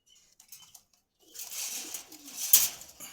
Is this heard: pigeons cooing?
yes